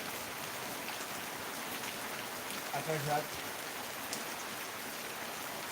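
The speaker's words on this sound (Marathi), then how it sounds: "आज सकाळी अवकाळी पावसाने सुरुवात केली" Steady unseasonal April rain in Kudal, Sindhudurg, Konkan patters down in a continuous, even hiss, with a brief soft voice heard partway through.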